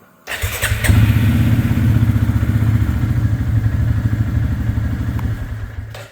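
A Kymco 450 ATV with an overheating fault cranks and catches, then idles steadily with a rough, chugging low rumble that carries on loud and close for several seconds.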